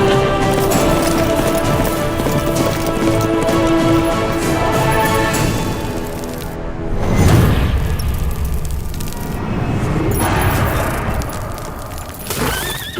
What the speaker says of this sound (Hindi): सरकार, घोड़े ने क्या किया है?